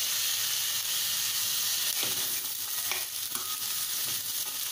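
Fresh green peas and chopped carrots sizzle steadily in a hot pan for a mixed Maharashtrian vegetable dish, with a constant frying hiss and a few soft clinks and scrapes of stirring; no talking.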